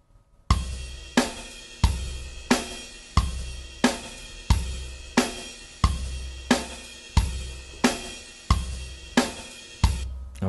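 A guitar loop played back in GarageBand on an iPad repeats as a steady rhythmic pattern, with sharp strummed or plucked attacks recurring about every 0.65 seconds and ringing briefly between them. It plays alone, without talk.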